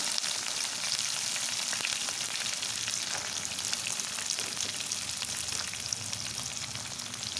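Green chillies, curry leaves, onion and garlic fry in hot oil with a steady, dense sizzle that runs unbroken and fairly close throughout, with no voices.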